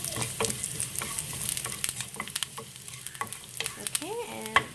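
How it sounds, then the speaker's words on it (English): Curry leaves fry in a pan while being mixed for South Indian yogurt rice: a close, continuous sizzle with brisk scraping strokes of a spoon throughout, ending in a light metallic tap. "I've added the curry leaves as well. So give this a good mix."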